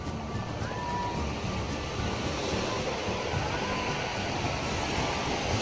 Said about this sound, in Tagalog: Ayan yung dagat, oh.